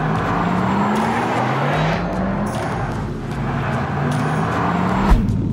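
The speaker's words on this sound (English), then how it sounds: "There's nothing like electric torque, acceleration, instantaneous." A 2022 Audi RS e-Tron GT electric car accelerating, heard from inside: a rising electric motor whine climbs in pitch over steady road and wind roar, loud and close.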